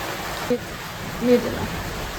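Rain falls outside a house as a soft, steady hiss, with a couple of brief faint voice sounds over it.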